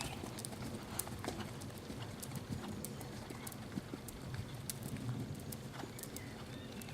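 Horse hooves clip-clop steadily through a dressage training session, a rhythmic patter of footfalls on an arena surface with a low rumbling background, fairly distant and moderately quiet, with faint speech here and there.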